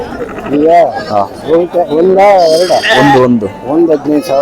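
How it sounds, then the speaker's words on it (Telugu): Loud, repeated goat bleats close by at the Bangarupeta weekly livestock market, overlapping one another, with voices talking in the background. "బ్యాక్గ్రౌండ్ లో అయితే మేకలు గానే ఉన్నాయి."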